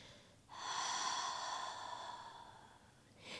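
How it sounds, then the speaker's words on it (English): A long, steady exhale through parted lips during a yoga breathing exercise, a soft airy rush that swells and then slowly tapers over about three seconds, close and alone, with the start of the next inhale at the very end. "part the lips and exhale to release the breath"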